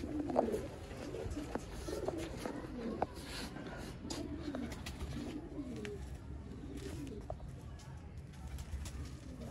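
Rare chapra pigeons kept by a fancier make soft, repeated low coos close by, with sharp clicks and some rustling around them.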